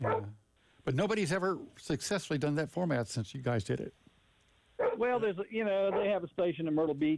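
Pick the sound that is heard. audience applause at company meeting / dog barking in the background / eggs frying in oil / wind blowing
dog barking in the background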